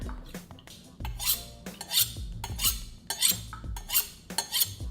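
Knife being washed after sharpening, repeated scrubbing strokes and clinking metal scrapes at a regular rhythm, close and alone.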